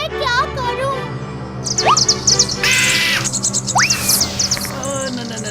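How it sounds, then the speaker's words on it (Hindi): A cartoon bird lets out shrill, high screeches and rapid chirps in several loud bursts, some rising sharply in pitch, with a child-like voice talking at the start. "चिड़िया की चीख सुनते ही मैं डगमगा गया"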